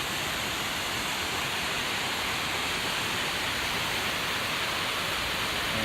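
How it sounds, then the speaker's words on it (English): A snowmelt-fed waterfall at Goat Rocks on the Pacific Crest Trail, a steady, dense rushing roar that stays constant and loud throughout with no talking. "Beautiful waterfall."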